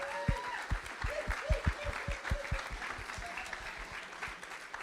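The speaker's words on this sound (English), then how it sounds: "Yeah, round of applause." Audience applause at a volunteer thank-you gathering, a steady wash of many hands clapping with sharp individual claps standing out, fairly close and continuous, with a few voices faintly underneath.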